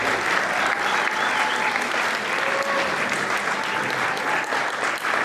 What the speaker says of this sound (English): give your teachers and staff members over here a round of applause